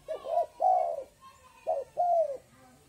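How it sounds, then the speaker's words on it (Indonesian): A tame spotted dove (tekukur) coos nearby in two pairs of soft, hollow, mellow notes, each pair with a short note followed by a longer one, with quiet pauses between the pairs. "Ini burung tekukur yang lepas ini"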